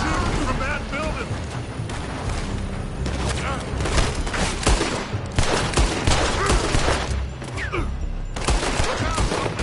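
Gunfire rattles through a Red Dead Redemption II shootout from a building, with dense overlapping shots and booming reports in rapid irregular bursts, loud and close, while voices talk in between.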